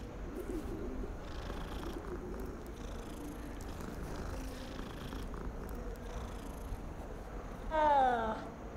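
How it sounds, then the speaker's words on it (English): A cat purrs in Hogwarts Legacy, a low continuous rumble held close and steady, with a brief brighter chirp or meow near the end. "Oh, cat. Hey, kitty cat."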